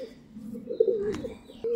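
Pigeons kept as quality birds give a faint, brief, low coo close by. It is short and soft, with little else around it.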